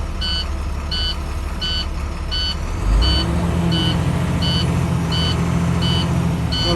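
An old diesel bus engine idles and then rises in revs to build air pressure, a steady low rumble that swells partway through, accompanied by a regular series of reversing beeps.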